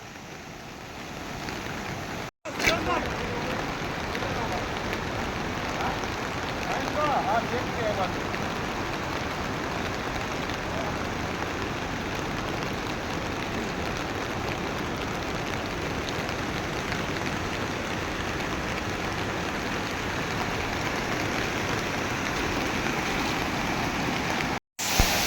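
Heavy rain pours with rushing runoff along the Saputara road in the Dang hills, a dense, unbroken hiss lasting the whole stretch, with brief cut-outs near the start and the end.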